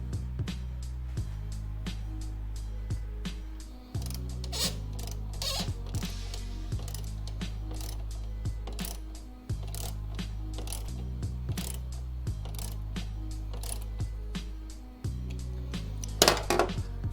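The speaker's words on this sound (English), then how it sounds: "this mass airflow sensor has the star bits on it. We'll have to get that taken off." Star bit screws are worked out of a mass airflow sensor during a cold air intake install on a Camaro V6 LFX, with repeated ratcheting clicks in bursts separated by short pauses, close and fairly quiet.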